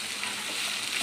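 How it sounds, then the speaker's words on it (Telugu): Grated coconut frying in a pan, a continuous close, even sizzle with soft crackle and no voices. "ఇట్లా కొబ్బరి ఒక 5 మినిట్స్ బాగా ఫ్రై చేసుకోవాలి"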